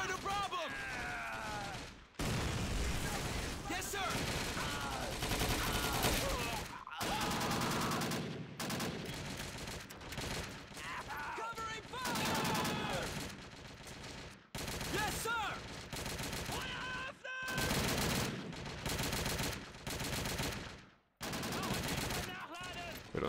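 Gunfire from German soldiers in Call of Duty 2 during a wartime battle: dense, overlapping rifle and machine-gun bursts crack nearly nonstop with short gaps, loud and close, with a few voices mixed in.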